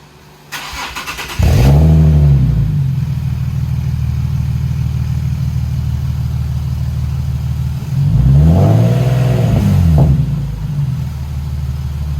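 A Nissan 370Z engine fitted with a new Rev9 exhaust starts and revs hard twice with a deep, throaty exhaust rumble, idling loudly between the bursts, close by with no talking.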